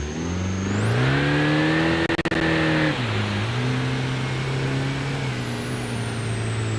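A car engine revs hard, its pitch climbing and holding steady, then dropping briefly before settling into a loud, sustained roar.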